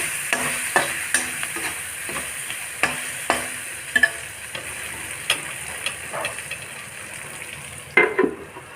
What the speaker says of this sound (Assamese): এইখিনি মই কেপচিকাম আৰু গাজৰ কেইডোখৰ পুনৰ লৰাই দিছোঁ।